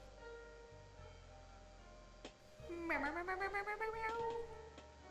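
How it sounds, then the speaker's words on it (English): A kitten meows in a run of rapid, rising and falling cries, close and fairly loud over a quiet background hum, with faint ticking clicks before and after. "Kitten."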